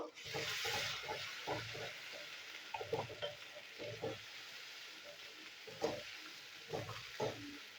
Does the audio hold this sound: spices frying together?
yes